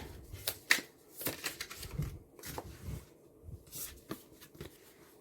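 Tarot cards shuffled and drawn in a quick, irregular run of soft riffling flicks and light slaps, close and quiet, with no voice over them.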